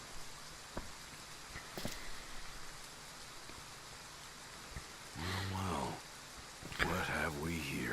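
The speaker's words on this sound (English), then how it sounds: "When did it start raining?" Steady rain from the video game Final Fantasy XV falls as a soft, continuous hiss throughout, with people speaking over it in the latter half.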